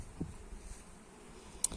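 Faint, low buzzing of honeybees nearby, with a soft insect drone and a brief sharp click near the end.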